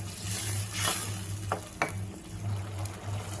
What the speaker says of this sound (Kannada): ಈಗ ನಾವು ರುಬ್ಬಿಟ್ಕೊಂಡಿರೋ ಟೊಮೊಟೊನ ಹಾಕ್ಕೊಳ್ಳೋಣ